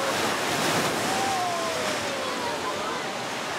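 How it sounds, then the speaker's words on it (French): Big sea waves surge and break on a beach during a family trip along the French coast, a steady, loud roar of surf with wind buffeting the microphone throughout and no clear pauses. "Regarde les grosses vagues, regarde, regarde."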